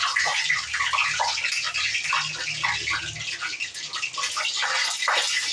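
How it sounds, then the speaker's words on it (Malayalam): Water trapped in a hot pan of oil sputters and spits loudly while papad fries, a dense, close crackle that continues without a break and has no talk over it. "കണ്ണാപ്പയിൽ ഇച്ചിരി വെള്ളം ഉണ്ടായിരുന്നു, അതുകൊണ്ടായി വെള്ളം പൊട്ടിത്തെറിപ്പ്"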